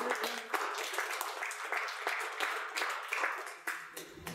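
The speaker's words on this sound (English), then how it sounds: "round of applause for Peck." Small audience applauding at a design leadership meetup, scattered close hand claps in an irregular, steady patter at moderate volume.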